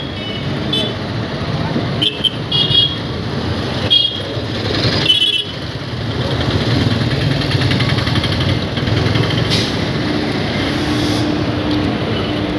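A train creeps slowly into a railway station, its deep engine rumble steady and loud and swelling slightly as it nears, with sharp clanks and noise from the platform mixed in.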